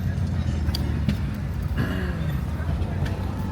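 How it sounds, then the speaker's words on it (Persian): Steady low road rumble and engine drone heard from inside a car stuck in city traffic in Ahvaz, Iran, continuous and fairly loud for the whole stretch, with faint higher hiss from passing vehicles. "اوه افتادیم تو ترافیک"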